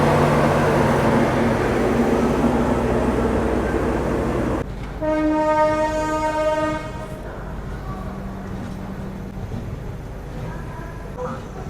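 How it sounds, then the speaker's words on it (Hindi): Bihar Sampark Kranti Express, Darbhanga to New Delhi, pulling out of a station platform: a loud, steady rumble of rolling coaches, then a sustained multi-tone horn blast for about two seconds, followed by continuing wheel and rail noise. "प्लेटफॉर्म नंबर 7 से डिपार्चर हो गया है दरभंगा न्यू दिल्ली हमारी बिहार संपर्क क्रांति एक्सप्रेस का"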